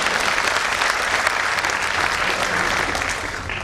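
Steady audience applause for the chief guest at a community organization program, dense clapping throughout that eases slightly toward the end.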